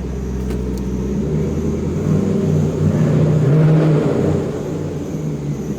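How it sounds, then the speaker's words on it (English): Deep, throaty V8 engine and exhaust of a 2002 Chevrolet Camaro Z28 35th Anniversary convertible, idling steadily with a brief swell as it revs slightly, close and loud with no talking. "nice deep throaty exhaust note on this one. Take a listen."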